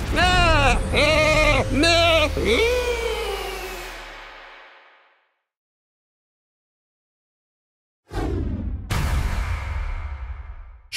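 A loud, wavering cartoon sheep bleat from Sheep Creep in Skylanders Trap Team rings out and fades, followed by silence and then sharp game effects.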